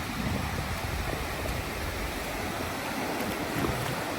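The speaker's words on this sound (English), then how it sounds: "The waves are just raging." Waves break on the beach at Sabang, Palawan, a close, steady rushing surf with churning water and light wind noise, no voices heard.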